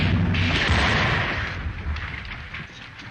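Disintegrator pistol blast from a 1939 Buck Rogers film serial, a loud sustained roaring explosion that rumbles and slowly fades over a few seconds, heard alone.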